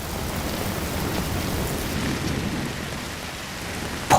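Heavy rain pours steadily over the sea in a typhoon, with a deep thunderous rumble running underneath and a brief sharp crack near the end, no voices.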